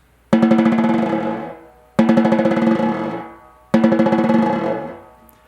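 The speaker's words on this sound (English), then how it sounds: "If you don't press hard enough, you get a really bumpy, coarse buzz." Snare drum buzz roll played with too little stick pressure, giving a bumpy, coarse rattle: three separate sustained buzzes, each starting with a sharp attack and decaying over about a second and a half, close and with no voices.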